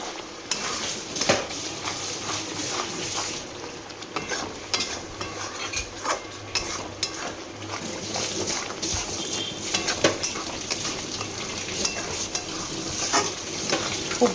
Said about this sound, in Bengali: খুব ভালো করে এটা কষতে হবে,